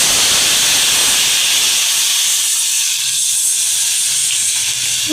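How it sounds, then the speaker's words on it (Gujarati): Tempering for Gujarati sweet-and-sour kadhi hits hot liquid with a loud, continuous close-up hiss and sizzle that spreads broad noise throughout. "તો હવે આપણે કઢીનો વઘાર કરી નાખીએ"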